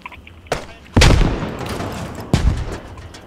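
Gunfire in the tactical shooter game Squad: three sharp reports at uneven intervals, each with a booming low tail, the middle one loudest and close, with game ambience filling the gaps.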